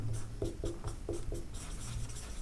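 Chalk or marker strokes on a classroom board while English is written out, a quick series of short scraping taps at close range, with no talking over them.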